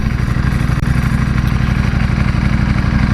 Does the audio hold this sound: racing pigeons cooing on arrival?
no